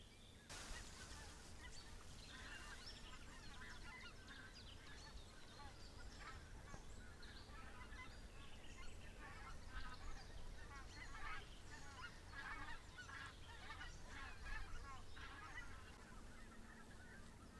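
A flock of geese honks repeatedly and fairly loudly throughout, overlapping calls against steady outdoor background noise on a riverbank in April.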